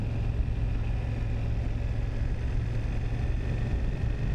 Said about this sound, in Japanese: このエンジン音というか排気のどこどこ感が 伝わってくるような感じでして